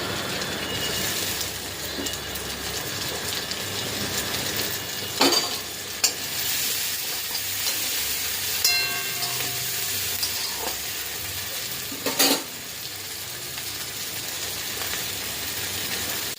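Sliced onion and tomato fry and sizzle in a pan with black cumin, dried red chilli and bay leaf for prawn posto, a steady crackle broken by a few sharp stirring scrapes and clinks.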